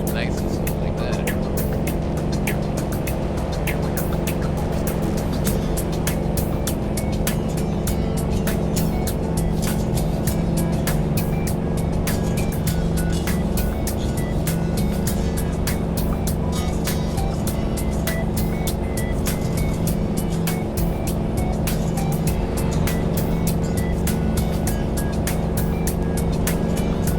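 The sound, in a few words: Kenworth T2000 truck engine driving, video game American Truck Simulator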